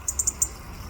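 Four quick, high-pitched chirps in a rapid cluster, small and thin, against a quiet background.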